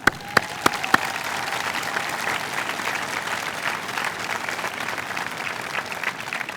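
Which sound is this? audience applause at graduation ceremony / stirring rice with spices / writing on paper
audience applause at graduation ceremony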